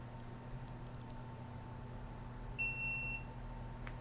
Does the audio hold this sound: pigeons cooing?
no